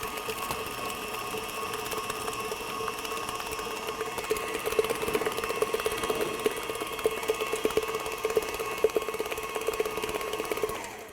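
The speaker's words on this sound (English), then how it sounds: "Gonna mix that till it's well blended" An electric mixer blending cheesecake batter with two eggs for a chocolate peanut butter cheesecake cake, a continuous steady whirring motor hum that holds for about eleven seconds, fairly quiet and with no talk over it.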